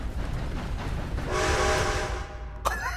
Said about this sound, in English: Yeah, you see that train?